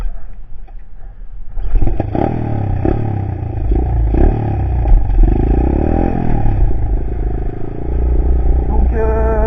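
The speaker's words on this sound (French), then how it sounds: "je redémarre la moto et je suis parti." A 110cc semi-automatic dirt bike starts up and pulls away, its loud engine running steadily close by with rising revs and some mechanical clatter for several seconds.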